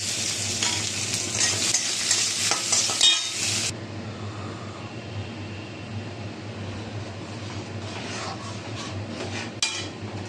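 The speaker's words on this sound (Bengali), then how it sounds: "তেল আর ঘি ভালো মতন গরম হয়ে গেছে এবার ফোড়নটা অ্যাড করলাম নারকেলটা অ্যাড করলাম" Whole spices and coconut tempered in hot oil and ghee sizzle loudly at first, then settle into a steady, softer frying hiss with occasional stirring clinks.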